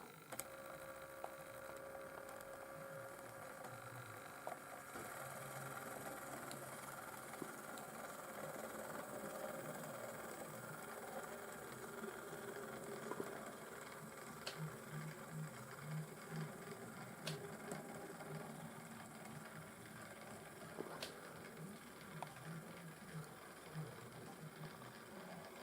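An OO gauge model train runs along layout track with a faint, steady mechanical whir and hum. Small clicks and ticks come through now and then across a long stretch, and there is no talk over it.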